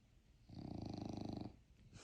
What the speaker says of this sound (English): My dog is snoring away